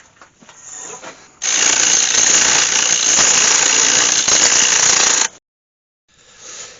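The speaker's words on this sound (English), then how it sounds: "sharpen my chisel up." A sharpening grinder or power tool works a wood turning chisel in one loud, continuous run of about four seconds, with quieter mechanical noise before it and after it stops.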